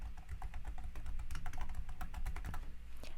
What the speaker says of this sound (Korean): 이 상태에서 원하는 파일 이름을 키보드로 입력하세요.